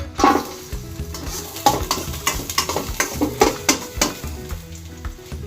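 Ginger sizzles in hot oil in a pot while a utensil stirs it, with steady frying hiss punctuated by repeated scraping and clinking strokes at close range.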